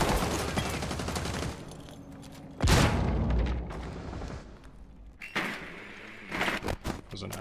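Gunfire in Rainbow Six Siege, loud bursts of automatic fire with a heavy boom near the middle, then scattered shorter volleys, close and sharp with brief gaps.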